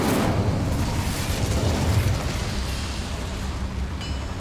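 A fire spell cast in Hogwarts Legacy, heard as a loud, sustained whooshing, rumbling blast that swells, then thins into a steady roar and fades slowly.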